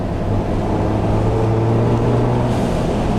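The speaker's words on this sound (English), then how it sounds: "Okay, the turbo blow off is definitely more noticeable. The exhaust note is definitely more," A modified Ford Bronco's aftermarket exhaust and turbo send a steady, loud engine drone into the cabin through an open window, with no distinct blow-off burst.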